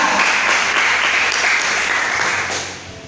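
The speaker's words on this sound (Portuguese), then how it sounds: "Aplauda o Senhor nessa noite" A church congregation claps together in a thick, sustained round of applause that stays loud, then tapers off toward the end, with no talk over it.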